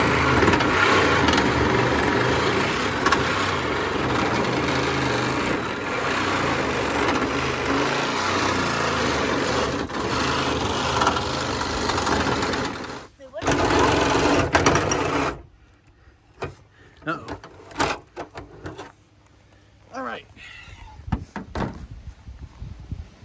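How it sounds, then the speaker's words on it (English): Reciprocating saw (Sawzall) cutting through a rusty fender on a 1K, a loud continuous buzzing rasp for about fifteen seconds, then stopping, followed by quieter intermittent clanks and handling noises. "The sawzall isn't cutting it"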